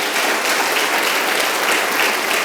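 A church congregation claps in steady, dense applause, loud and continuous throughout without any break.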